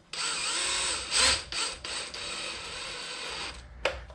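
A power driver runs screws back into the cover of a Traxxas X-Maxx 8S RC car, giving a steady close whirring buzz for about three seconds, then a short final burst.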